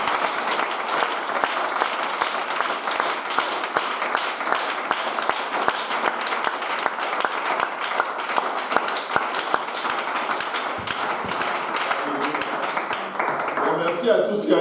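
A church congregation applauds and cheers during a service, a sustained, loud wash of clapping with crowd voices throughout, starting to fade near the end.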